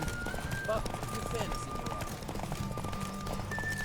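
Horse hooves clip-clopping at a gallop during a horse race in The Witcher 3, a steady drumming rhythm with occasional whinnies, heard under game music and a talking voice.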